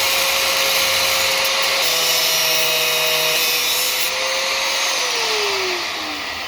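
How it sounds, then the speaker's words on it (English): An angle grinder used for the first time during BMW E36 engine block prep gives a loud, steady, close whine with an even high hum throughout, then its pitch sinks as the disc spins down near the end. "My first time using an angle grinder, so we'll see how this goes."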